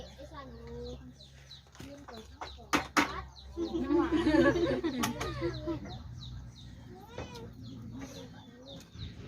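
Chickens cluck and a rooster calls while feeding outdoors, a burst of flapping and busy clucking rising midway, with a person talking over the birds.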